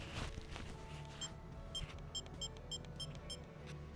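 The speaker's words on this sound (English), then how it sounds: "we have the beep. Take a listen to that." Quiet room tone with a series of short, high electronic beeps from a Sony Mavica FD-73 digital camera, several spaced chirps in a row, faint and small-sounding.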